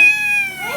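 A single cat meows close by, a clear drawn-out tonal cry that slides and fades within a second.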